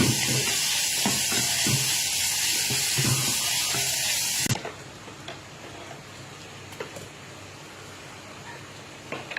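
Fried tofu stir-fries in a pan: a loud, steady sizzle with spattering crackles and occasional utensil taps fills the first half, then drops to a quieter, softer frying hiss.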